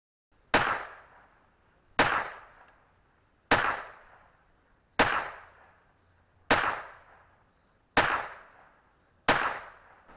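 Six evenly spaced .22LR shots from a Taurus TX22 competition pistol firing Eley Target ammunition at an outdoor range, each a sharp crack with a short decaying tail, about one and a half seconds apart, with no talking.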